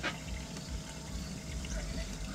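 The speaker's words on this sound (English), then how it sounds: "I run clear fresh water on it." Tap water runs over a freshly caught fish being cleaned, a soft steady splashing and trickling close by with no talk.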